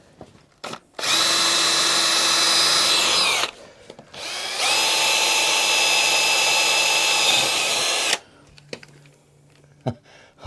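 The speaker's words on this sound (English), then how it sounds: "I think we just drilled into the bars" A power drill bores into motorbike handlebars in two loud, sustained bursts of high whining motor noise, each lasting a few seconds with a short pause between them, followed by clicks and handling noises.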